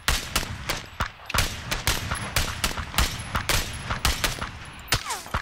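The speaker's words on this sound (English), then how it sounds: "Oh, I'm getting shot." Rapid bursts of gunfire crack repeatedly in PlayerUnknown's Battlegrounds as the player takes hits, with loud, closely spaced shots continuing throughout and no talk over them.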